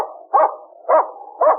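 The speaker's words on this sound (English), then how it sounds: "Whitey reached the cabin and barked frantically." Three evenly spaced, frantic barks from Whitey the dog at a cabin door in a radio drama, loud and close, with a faint steady hum underneath between barks.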